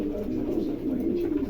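A pigeon coos in a low, steady murmur, close and moderately loud, with no one speaking.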